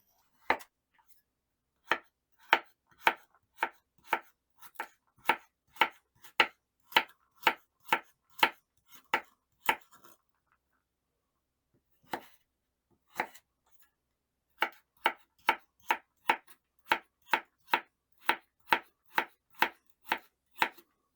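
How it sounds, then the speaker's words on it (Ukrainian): Steady, rhythmic knife chops cutting carrot on a board, evenly spaced, pausing briefly midway before resuming the same regular beat. "Моркву теж нарізаю кубиками,"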